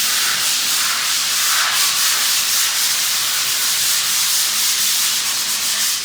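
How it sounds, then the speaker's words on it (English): Sticky adhesive remnants are rubbed off a wall by hand with sandpaper, making a loud, continuous, close-up scratching and scraping that keeps going without a break and with no voices. "At first we tried doing it with our hands using sandpaper, rubbing and rubbing"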